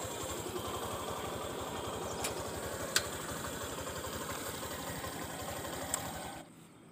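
A motorcycle engine idles with a steady low, rapid thumping pulse, a couple of faint clicks along the way, before the engine cuts out near the end, leaving quiet.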